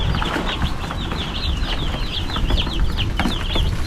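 Chickens cluck repeatedly at a farm where more birds are being moved up, their calls loud and close over steady barnyard noise, with no talk.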